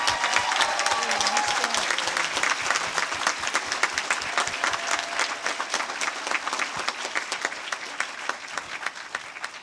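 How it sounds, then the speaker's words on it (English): Applause for young women at a Colleen coronation ceremony rings out as a steady patter of many hands clapping in a room, moderately loud and sustained, thinning slightly near the end. "May we have a round of applause for these wonderful young women"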